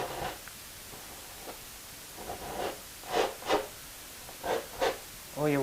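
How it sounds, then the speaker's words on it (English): A palette knife scrapes excess paint off while painting mountains in a landscape, giving several short raspy rubbing strokes in bursts, close and moderate in loudness, alone without talking. "And scrape off any excess paint."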